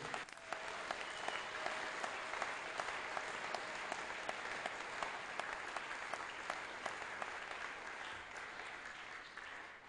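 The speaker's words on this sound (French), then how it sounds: "Est-ce que nous pouvons acclamer pour la gloire de Dieu?" A church congregation applauds in a steady, dense wash of clapping that fills the whole span, loud and close, with no talk over it.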